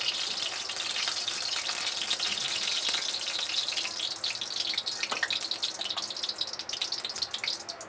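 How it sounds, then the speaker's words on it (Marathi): Cooking oil heating in a pan for sabudana khichdi gives a steady, close crackle and sizzle, loud and continuous with broadband hiss and occasional sharper pops, no voices. "मस्त तेल कडकडलं"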